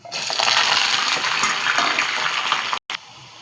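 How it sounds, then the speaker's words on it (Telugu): Sliced onions hit hot oil in a pan for gongura pachadi with a loud, close, steady hissing sizzle that fills the clip, then cuts off abruptly before a quieter sizzle resumes. "ఉల్లిపాయ వేసేసుకుందాం."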